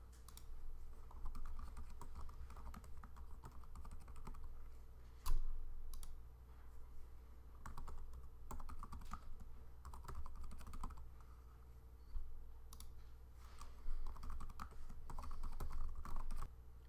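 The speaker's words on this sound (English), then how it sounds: "you can type more names into the box before you press Invite" Names are typed on a computer keyboard, a long run of soft, fairly quiet key clicks with short pauses over a low steady hum and no speech.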